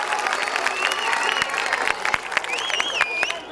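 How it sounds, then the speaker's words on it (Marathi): An audience at a comedy skit show claps loudly in a dense, sustained burst of applause, with voices and a few whistles mixed in. "जोरदार टाळ्या"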